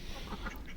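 Ducks quack briefly in their room on a small home farm, a short nearby burst of calls with no voices.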